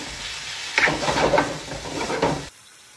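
Sausage and wild mushrooms cooking together in a pan, a steady sizzle that swells as the pan is stirred and scraped for a couple of seconds, then drops to a faint hiss.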